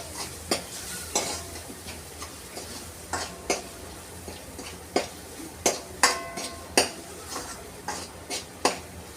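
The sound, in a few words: spices being stirred and sautéed in oil with onion and tomato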